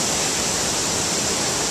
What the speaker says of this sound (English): You can hear the waterfall in the back.